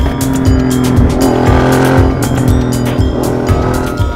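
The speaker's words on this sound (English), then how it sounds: "noise come from the exhaust or the basic engine, the sound of the rawness" A custom Royal Enfield 650 Twin Interceptor motorcycle engine and exhaust runs loud and close, with a steady, raw engine roar and rhythmic pulsing throughout.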